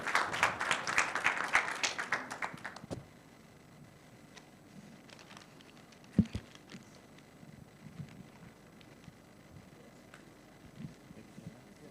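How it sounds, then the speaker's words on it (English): Applause from a conference audience thanking panelists, a few seconds of steady clapping that stops abruptly, followed by a quiet room with scattered small knocks and rustles. "please join me in a warm round of applause to thank our panelists today"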